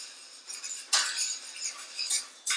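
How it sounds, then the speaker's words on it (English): Crushed biscuits stirred into melted butter in a pan, giving a series of soft scraping strokes with a sharp utensil scrape near the middle and another at the end, close and fairly quiet with no voices. "the biscuits are crumbled up now, so you just add them to a pan with the melted butter. And then you just stir until it all mixes in"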